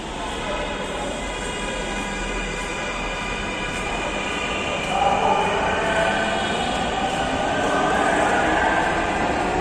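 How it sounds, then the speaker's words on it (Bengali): A train rumbles past steadily nearby, a continuous mechanical roar with metallic whine and rattling wheels that grows slightly louder midway. "দাঁড়াও, ট্রেন চলে যাক।"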